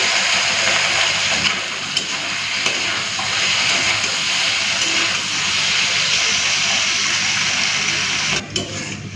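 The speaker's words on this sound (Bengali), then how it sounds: "চলুন, তো লোহার কড়াইতেই মাছগুলো ভেজে নিচ্ছি।" Small Morala fish frying in hot oil in an iron wok: a loud, continuous sizzling hiss that holds steady and close throughout, then drops briefly near the end, with no talk.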